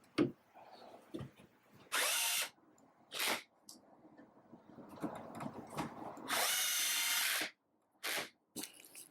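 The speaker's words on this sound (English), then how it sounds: "I drilled pilot holes for the screws" Power drill boring pilot holes for screws into short pieces of chipboard salvaged from a torn-down IKEA wardrobe, several loud bursts of whirring, each a second or so long, separated by quieter handling and clamp noises.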